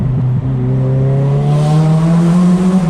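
A turbocharged Nissan S15 Silvia engine pulls hard and rises steadily in pitch as it accelerates, loud and close, with a faint fluttering edge.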